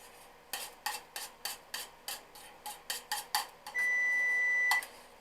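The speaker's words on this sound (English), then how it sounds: "the preheat has just gone off" An oven's preheat alarm sounds as a single long, steady electronic tone partway through, following a run of rhythmic scraping strokes of stuffed zucchini being prepared for the oven.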